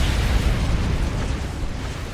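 Carpet-bombing explosions in a strategy video game, a dense, continuous low rumble of blasts that runs loud for two seconds and fades slightly toward the end, with no talk.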